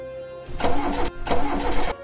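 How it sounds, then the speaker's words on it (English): A bus engine in a Minecraft horror animation cranks twice in quick succession, each attempt a loud sputtering turnover lasting under a second over a low idle hum, with no voices. "Come on, bus. Please start."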